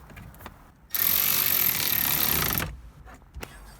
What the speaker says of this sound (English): Now I'm gonna put these 10mm bolts back in.